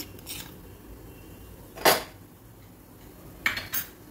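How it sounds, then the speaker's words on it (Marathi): A spoon scrapes and clinks through semolina roasting in ghee in a pan, with a few sharp strokes spread out against a quiet background and no talking. "आणि हा असा रवा इथे असा भाजून घ्यायचा।"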